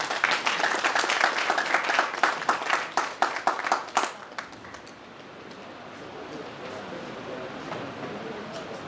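Loud applause from the audience at a CRPF ex-servicemen welfare association gathering for martyrs' families, with dense clapping for about four seconds that thins out and fades into a low murmur of crowd noise.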